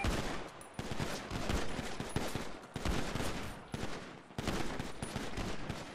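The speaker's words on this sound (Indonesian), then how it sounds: "Tembak mulai." Repeated bursts of rapid automatic gunfire in the video game GTA V roleplay, loud volleys separated by brief gaps, with no talking.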